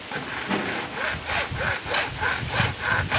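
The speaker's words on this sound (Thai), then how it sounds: "เลื่อยตามเส้นนะครับ ค่อยๆเลื่อยครับ ดึงเลื่อย นิดละนิดครับ" A hand saw cuts through PVC pipe in steady back-and-forth strokes, each rasping pass clear and close, about seven strokes in quick rhythm.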